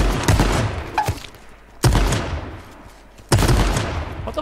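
Shotgun blasts from a weapon in the battle-royale video game H1Z1, three loud, sharp booms spaced over about a second and a half each, every one followed by a decaying rumble, with no talk over them.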